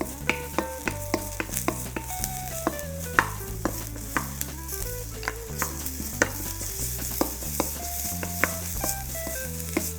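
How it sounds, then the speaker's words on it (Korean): Chopped green onion frying in oil in a hot pan, with a steady sizzle underneath and repeated clanks and scrapes of a utensil stirring against the pan at an uneven rhythm. "달군 팬에다가 기름을 둘러주시고요. 아까 썰어놓은 대파 넣고요."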